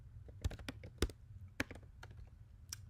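Computer keyboard keys tapped out at a steady, moderate pace, a run of close, crisp clicks with a few louder strokes over a low background hum.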